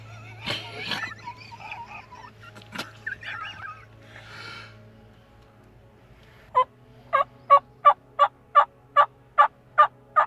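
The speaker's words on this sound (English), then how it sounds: "there they are, gobbling" Wild turkeys gobble during a spring hunt in Massachusetts. Scattered calls and rustling come first, then a series of about ten evenly spaced, clear gobble bursts rings out from a moderate distance.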